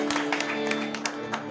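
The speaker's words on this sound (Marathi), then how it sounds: "एकदा जोरदार टाळ्या वाजवला." Live audience clapping at a bhajan performance in Rajapur, a dense patter of many hands over a steady sustained musical drone.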